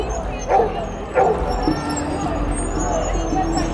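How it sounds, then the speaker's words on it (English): A dog yips and barks a couple of times at an outdoor May Day march in Seattle, mid-distance, over crowd murmur and street noise. "Hey there, dog."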